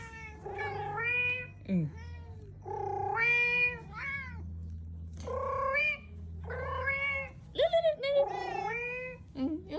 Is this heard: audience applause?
no